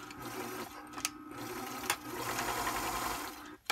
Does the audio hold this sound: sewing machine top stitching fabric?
yes